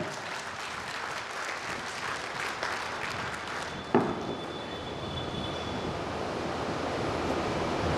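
An audience gives loud applause to IAS officer Farkhanda Qureshi, from Balaghat, as a sustained wash of clapping lasting the full eight seconds, with one sharper clap near the middle.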